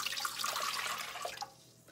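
One and a half cups of water pour into a bread machine pan for pizza dough, a brief soft splashing trickle, close and fairly quiet, tapering off after about a second and a half.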